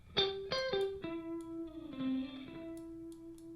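Plucked instrument notes ring out through shifting plate, spring and slap reverb effects, tails blooming and lingering with echoey, metallic decay, moderately quiet with no talking.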